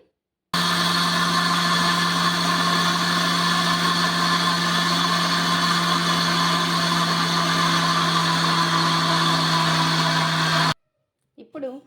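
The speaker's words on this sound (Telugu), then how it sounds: "వాటర్ వేసుకొని మిక్సీ పట్టేసుకోవాలి" A mixer grinder grinding batter with water whirs loudly and continuously for about ten seconds, a steady high-pitched motor drone that stops abruptly, followed by faint rustling.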